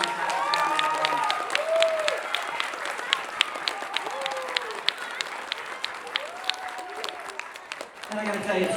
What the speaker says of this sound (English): Let's give Miss Atlas a round of applause.